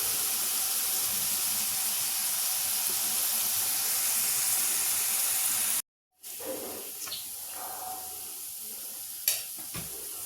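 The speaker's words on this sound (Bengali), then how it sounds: "পেঁয়াজটা ভালো মতন একটু ভাজা হবে" Onions fry in a pan for a milk chicken curry, giving a steady, close sizzle that stops abruptly, then quieter cooking with a few utensil clinks.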